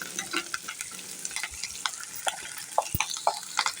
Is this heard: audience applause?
no